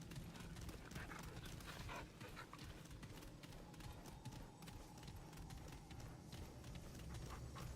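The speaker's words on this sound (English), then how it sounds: "And that's my dog in the background." A dog barks repeatedly in the background, faint and somewhat distant, with irregular clustered barks over a low steady room noise.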